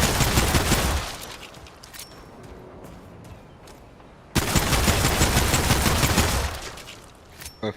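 Pistol fire in the video game Remnant 2 comes in two dense, loud bursts of rapid shots separated by a quieter stretch of faint clatter and movement, close up, with no talking.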